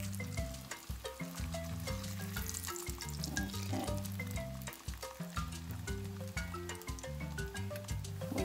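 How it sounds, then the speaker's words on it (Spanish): Garlic fries in a little oil for chalupas poblanas, with a quiet crackling sizzle running beneath steady tonal music. "Antes de que se dore el ajo, lo sacas."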